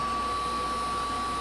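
A Kirby Generation 3 upright vacuum cleaner runs continuously close by, a steady loud motor drone with a sharp whining tone and constant airflow hiss, no voices.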